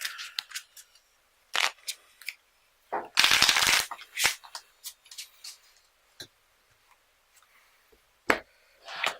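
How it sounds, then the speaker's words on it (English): A deck of game cards being shuffled by hand in a tabletop card game, short riffling bursts with one long loud riffle in the middle and scattered card taps between, close and clear. "my shuffling skills aren't the greatest."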